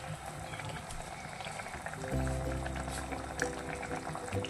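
Chana dal curry bubbles at a steady simmer in a pot, a continuous close bubbling hiss and gurgle running through the whole stretch, with a brief clink partway through.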